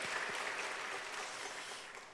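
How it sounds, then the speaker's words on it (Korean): A church congregation clapping at a Wednesday evening service, a steady wash of applause heard faintly and from a distance, easing off toward the end with no talking. "우리도 박수 한번 할까요?"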